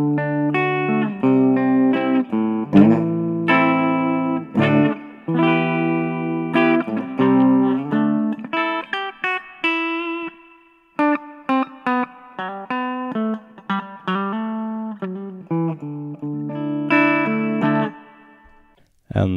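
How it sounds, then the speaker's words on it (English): Electric guitar through a Roland Micro Cube amp plays a series of chords and single notes with a reverb effect set midway, the notes ringing out and decaying, including a short pause midway. "Then we try the reverb"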